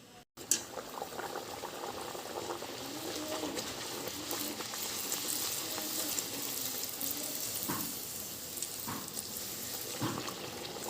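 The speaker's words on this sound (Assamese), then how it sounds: "এইপিনে লুচি ভাজি আছোঁ" Luchi fry in hot oil in a kadai with a steady, fine bubbling sizzle that carries on throughout, while birds chirp faintly in the background and an occasional clink sounds nearby.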